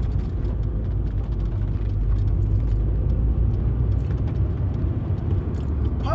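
Steady road and engine drone from inside a moving MGF 1.8 soft-top roadster, with faint rattling from the fabric hood running under the constant hum.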